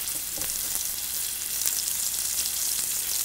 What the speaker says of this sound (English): We're going to sear this in a pan and make dinner.